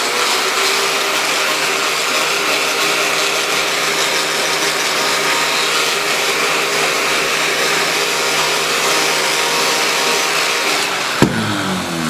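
A heat gun blows hot air onto a plastic side plate from a 2013 Honda CRF 450. Its steady, loud whooshing roar runs unbroken and ends in a sharp click near the end.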